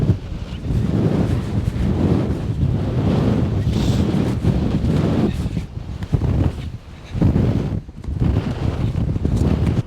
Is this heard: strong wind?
yes